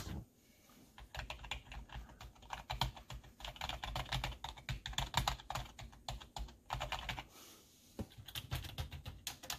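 Rapid typing on a plastic Redragon S101 gaming keyboard, a fast, uneven stream of clacky keystrokes with brief pauses, close and fairly quiet.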